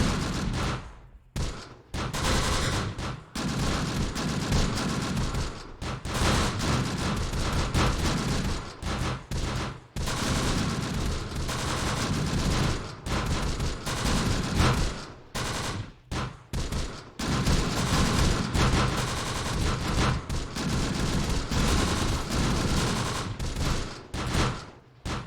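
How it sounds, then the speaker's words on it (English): Mortar and gunfire in the Close Combat: The Bloody First war strategy game, a dense, continuous barrage of booms and rattling shots with brief gaps, loud and sustained throughout. "looks like they still got a mortar or something firing at me"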